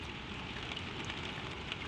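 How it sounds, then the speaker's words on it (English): Soft, steady rain patters on window glass, a continuous gentle hiss without breaks or voices. "The rain keeps on at the windows, soft and steady, threading down the dark glass in bright, slow lines"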